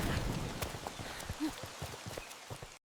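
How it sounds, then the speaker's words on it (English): Warm tropical rain pours down on a Costa Rica beach, quiet scattered drops and taps pattering irregularly at a distance before cutting off abruptly. "Warm tropical rain pours down."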